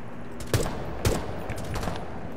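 Gunfire in the video game Rainbow Six Siege, a few muffled shots spaced about half a second apart over a steady background hum, aimed at a camera.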